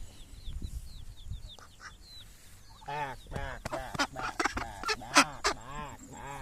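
Ducks calling close by, a few thin high notes at first, then a run of loud, harsh, rapidly repeated quacks that become denser and louder toward the end.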